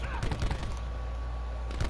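Tap-fired rifle shots in Call of Duty Black Ops 4 with the Maddox or Saug, a quick cluster of sharp shots at the start and another near the end, separated by a brief lull, moderately loud.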